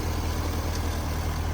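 A Chevy C6 Corvette engine idles with a steady, continuous low rumble and hum. The sound stays even throughout, with no revving and no voices.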